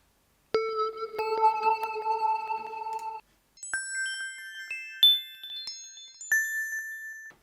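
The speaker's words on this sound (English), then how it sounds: "Arpeggio, bells, I don't know." GarageBand arpeggio bell synth playing clear, ringing tonal notes: a held chord of bright tones, a brief pause, then a rising and falling run of high chiming single notes, clean and close.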